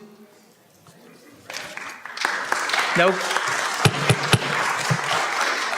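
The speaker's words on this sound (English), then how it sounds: "Let's refrain from the clapping" An audience at a city council study session breaks into applause after a quiet moment, the clapping swelling into a dense, sustained patter with a few sharper claps, and a voice speaks briefly.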